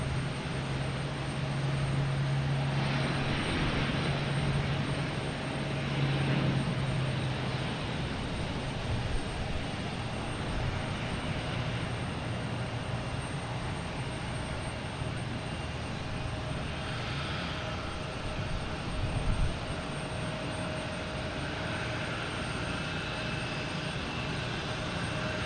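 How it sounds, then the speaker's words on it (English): A Delta Airbus A330 jet moving at Boston Logan airport, a steady broad engine roar with a low hum, continuous and moderately loud at a distance, with no talk. "Just waiting for this Delta to come out, an A330."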